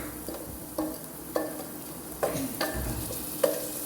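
Curry leaves and ginger-onion paste fry in oil as the base of a chicken curry, a low steady sizzle punctuated by regular spoon scrapes and stirs about every half second to second, close and with no voices.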